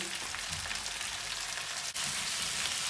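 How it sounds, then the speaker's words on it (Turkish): Tomato paste sautéed in a pan for meatball stew, a constant close hissing sizzle like light rain, with one brief dip partway through. "Salçamızı iyice kavuracağız."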